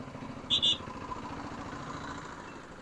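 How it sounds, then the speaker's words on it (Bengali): Wind rushes against a moving motorcycle in a steady, low, rumbling blast, with engine drone underneath and a brief high chirp near the start. "বাইরে তো ভাই উইন্ড ব্লাস্ট প্রচুর হচ্ছে"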